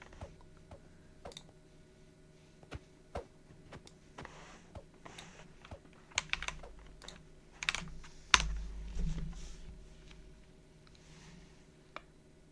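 Scattered keystrokes on a computer keyboard, with irregular clicks and taps spread across the span and a brief busier patch near the middle, fairly close against a quiet room background.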